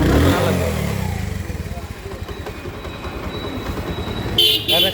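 A Honda CD80 motorcycle engine idles close by with a steady, fast low putter throughout, blipping slightly louder near the end, while someone talks over it.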